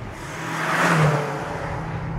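A BMW M5 engine pulls hard at full throttle in third gear, a steady droning roar that swells toward the middle and holds, with no voices.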